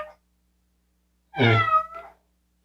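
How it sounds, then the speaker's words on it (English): A cat meows once, close and clear, with a short trailing note after a brief pause; the rest is near silence. "And the cat is meowing."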